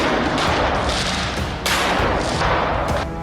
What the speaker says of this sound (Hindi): इस दौरान फायरिंग की आवाज भी सुनाई दी।